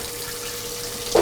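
Coolant nozzles on a milling machine spray steadily onto the cutting bit, giving a constant hissing, watery rush throughout, close and fairly loud, with a brief louder splash at the end.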